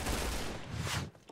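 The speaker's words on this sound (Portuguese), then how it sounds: "escutei tiro de sniper lá do outro lado" A sniper rifle shot from the video game Point Blank, heard as a loud broadband blast that decays over about a second, followed by quieter game sounds.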